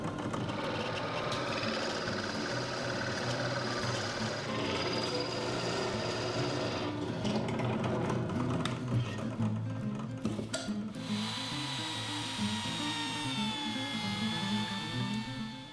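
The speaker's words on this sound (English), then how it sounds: "I'll drill a hole a 1/2 inch deep." A 1 1/4 inch Forstner bit bores a half-inch-deep hole in wood for copper push-up bars, giving a steady, loud, whining drill drone that runs nearly unbroken with a slight shift in pitch partway through.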